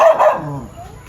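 A dog barks a couple of times up close in an outdoor rural yard, short loud yaps at the start fading into quieter whimpering tones.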